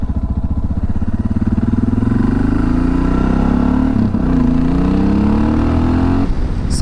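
A motorcycle being ridden, engine thrumming loud and close with a steady pulsing beat, slowly rising in pitch, dipping briefly midway, then climbing again as it pulls along.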